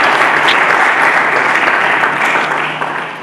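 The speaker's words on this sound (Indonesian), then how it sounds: "Mari kita berikan tepuk tangan bagi Yesus Kristus." A church congregation claps together during a worship service, a dense, steady wall of applause that holds strong throughout and tapers slightly near the end, with no talking over it.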